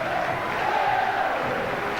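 Steady crowd noise from a large stadium audience at a 1998 rugby league academy grand final between Leeds and Wigan, a continuous roar of applause and cheering with no pauses, loud and diffuse throughout.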